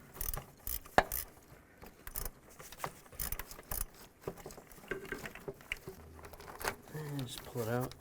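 A ratchet clicks in quick bursts while backing out a bolt during timing chain work on a 2002–2009 Chevy Trailblazer engine, close up amid metallic rattles, with someone talking.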